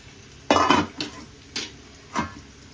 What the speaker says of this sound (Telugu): ఇది కూడా వేగిపోతుంది చూడండి